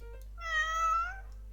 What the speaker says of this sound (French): Nian, c'est l'onomatopée pour miaou en français.